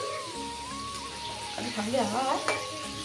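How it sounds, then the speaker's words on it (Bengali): Pakoras sizzle steadily as they fry in hot oil, the crackle continuing throughout while someone talks over it. "পকোড়াগুলো ভেজে দিই"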